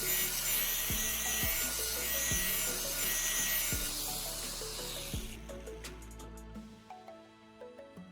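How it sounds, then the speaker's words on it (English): An angle grinder sharpens an axe blade, giving a harsh, steady abrasive rasp with a few dull low knocks for about five seconds before it cuts off, leaving scattered faint clicks and ticks. "I'm using an angle grinder to meticulously sharpen the axe blade to achieve the desired edge."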